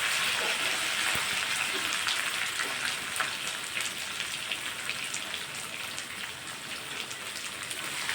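Mustard seeds, urad dal, curry leaves and onion fry in hot oil, giving a steady, dense crackle and hiss that holds evenly throughout with no voices.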